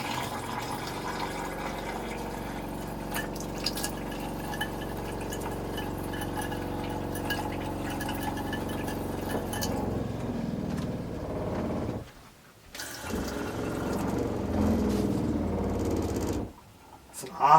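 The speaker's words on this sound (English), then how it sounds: "awfully loud pump." A loud camper water pump running, rattling and shaking the water lines with a steady droning hum that later turns rougher, cuts out briefly twice, then resumes, while a person talks.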